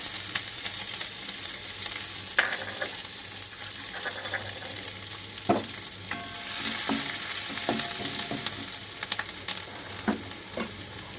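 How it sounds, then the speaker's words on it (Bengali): Chopped garlic sizzles in a hot karahi just after fried chicken for chicken 65, with a steady frying hiss and sharp scraping stir strokes spread through the clip. "এবার আমি ওই কড়াতে খানিকটা রসুন কুচনো দিয়ে দেবো।"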